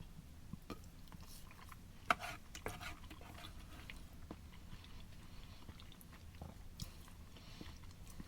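Quiet close-up chewing of a Canadian IMP beef macaroni ration, soft wet bites and mouth clicks repeating irregularly over several seconds with no talk.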